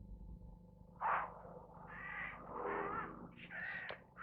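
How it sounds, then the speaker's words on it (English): A crow gives a series of harsh caws, four or five rasping calls close together, fairly near against quiet background hum. "Crows, both the hooded crow and the carrion crow, are a real problem to game preservers."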